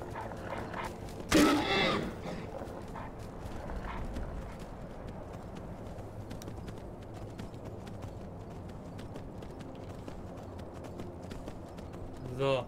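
A horse gallops in Skyrim with steady rhythmic hoofbeats throughout, and a louder burst near the start. A voice talks over it.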